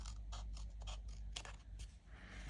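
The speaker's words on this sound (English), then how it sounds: "I'm just gonna try and correct that with my scissors" Scissors trim an uneven edge of cardstock for a slider card: a series of faint, close snips and small crisp cuts in a quiet room, irregularly spaced.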